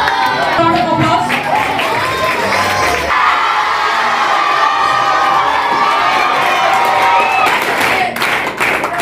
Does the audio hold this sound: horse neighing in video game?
no